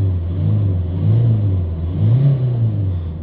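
2019 Peugeot Partner 1.5 diesel with a suspected common rail fuel leak, revved up: a low, steady engine drone that swells in a few gentle rev rises, close by, with no talking.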